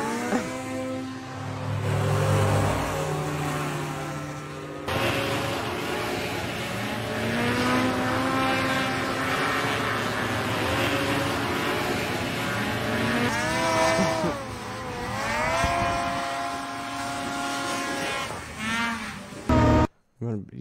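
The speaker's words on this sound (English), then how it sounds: "here's hovercraft racing" Racing hovercraft roar past, a loud continuous engine drone with sweeping pitch changes that rise and fall over many seconds, close and ending abruptly.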